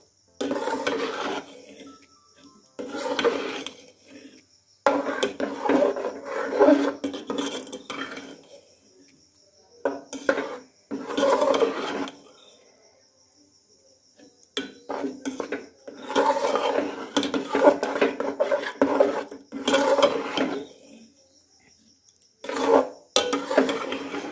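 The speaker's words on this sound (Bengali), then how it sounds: "এরপর ভালো করে গুড়টা নেড়ে দেবো।" A spoon scrapes and rubs in bursts against a pot as date palm jaggery is stirred into rice payesh, a rasping, gritty sound separated by short pauses, with no talking.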